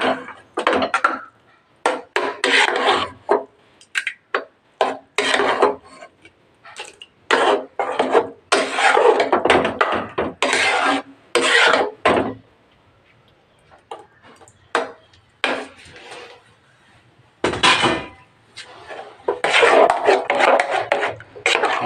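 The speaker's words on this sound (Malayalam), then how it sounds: "തൈര് ചേർത്തിട്ട് നന്നായിട്ട് ഇളക്കുക" Curd is stirred into papaya pachadi in a pot, making loud, close, rhythmic scraping and rubbing strokes in quick bursts with short silent gaps between them, and no one talks.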